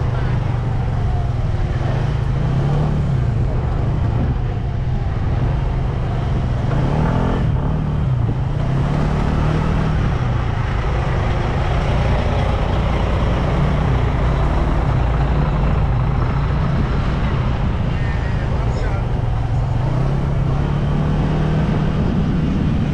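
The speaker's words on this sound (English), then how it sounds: "this traffic here is hell" Dense city road traffic in Tongue, a constant loud rumble of engines and passing vehicles with low droning tones throughout, no clear breaks, and faint voices mixed in.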